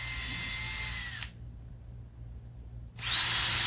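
A power drill widening the string holes in a guitar body, whining loudly, cutting out briefly for a couple of seconds, then spinning up again.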